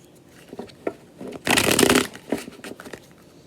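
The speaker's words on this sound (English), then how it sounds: "the reason why I turn the deck like that is to shuffle in reversals." A burst of tarot card shuffling, a dense riffling rush lasting about half a second, surrounded by lighter taps and slides of the cards being handled.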